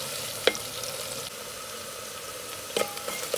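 Onions frying with cardamom, cinnamon, cloves and peppercorns in a clay pot give a steady, close sizzle, broken by a couple of sharp utensil clicks.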